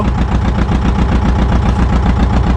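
A motor boat engine running steadily on a jungle trek near Vasota Fort, a loud, close, even throbbing drone with a fast regular pulse and no voices.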